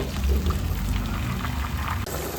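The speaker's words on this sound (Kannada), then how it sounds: "ಹುಣಸೆ ಹಣ್ಣಿನ ನೀರು ಹಾಕಿ ಈ ರೀತಿಯಲ್ಲಿ ಕುದೀತಾ ಇರುವಾಗ" Tamarind water poured into a pot of boiling mango curry, giving a steady close splashing pour with bubbling underneath that runs throughout, then changes briefly near the end.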